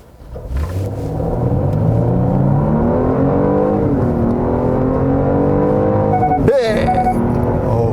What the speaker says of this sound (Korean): 지금 스포츠 모드에서 급가속을 한번 해보도록 하겠습니다